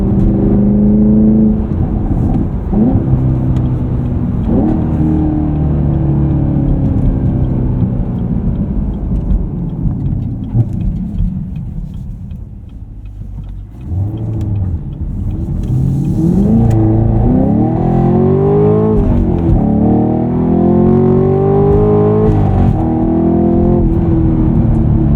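A Chevrolet Camaro SS 1LE in track mode with competitive ESC accelerates hard, its V8 roaring loud and close. Rising pulls are broken by a brief dip at a gear change before the engine climbs again.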